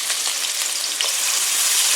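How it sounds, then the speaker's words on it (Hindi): Chopped onion fries in hot oil in a kadai, a loud, steady, dense hiss and crackle of sizzling heard up close with no talking. "सबसे पहले मैं इससे प्याज को ऑयल के अंदर ऐड करूँगी।"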